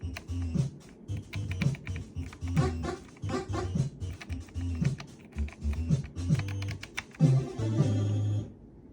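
Buttons on a Polyend Tracker are pressed in quick, uneven runs of close, crisp clicks, with a low musical tone pulsing faintly underneath.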